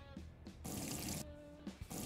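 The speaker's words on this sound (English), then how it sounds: "Pour into the pot." Water pouring into a pot in Brewpub Simulator, a steady splashing stream that starts and stops in short bursts, close and moderately loud.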